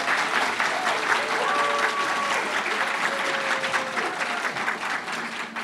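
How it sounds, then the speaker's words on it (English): An audience at a moot court finals competition gives a sustained round of applause, a dense steady wash of many hands clapping, loud and even throughout, with faint voices and a few brief tones mixed underneath. "Let's have another round of applause for Alex and Jared."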